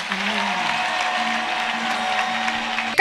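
Worship congregation breaking into acclamation with continuous applause, a broad, steady clatter of many hands at moderate distance, ending in a sudden louder burst at the very end.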